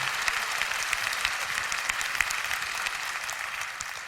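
Audience applause at a church gathering, a steady, dense clapping that fills the space evenly and continues alone without talk.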